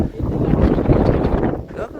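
Strong wind buffeting at a high hilltop viewpoint, a loud rough roar pounding the microphone for the whole moment with little letup.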